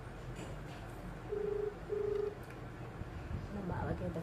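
A phone being dialed gives two short, even electronic tones one after the other, with fainter tones following, over a low background hum.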